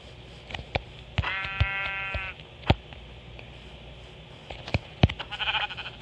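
Sheep in the Minecraft Bedrock (Pocket Edition) video game bleat once in a clear, buzzy mid-length call amid scattered clicks and footstep-like taps of gameplay, with a brief chiming pickup sound near the end.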